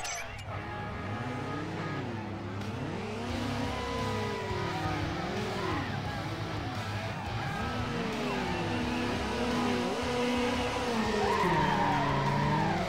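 Race car engines in Need for Speed Underground roar and swoop in pitch, with repeated tire skids and squeals running steadily through the whole stretch, loud and close.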